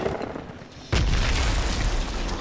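A grenade detonates in the military shooter Project Reality: BF2, a sudden loud broadband boom followed by a sustained rumbling roar. Before it there is only a quiet ambient background.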